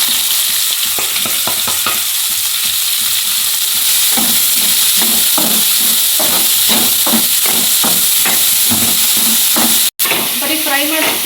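Finely chopped onions frying in a pan with steady loud sizzling and hissing throughout, joined by repeated scraping stirs and taps of a spoon against the pan, with no voices.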